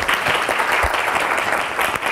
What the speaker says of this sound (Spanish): les agradezco el aplauso